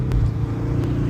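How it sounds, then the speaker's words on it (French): A Ford Mustang 2.3 Turbo revving through a gear shift, a short burst of loud, low engine drone recorded from inside the car. "Putain, c'est les vitesses qui passent, hein?"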